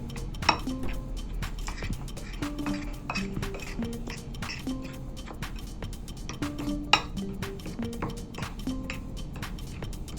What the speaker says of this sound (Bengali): ভালো করে মিশিয়ে নিচ্ছি এটা দিয়ে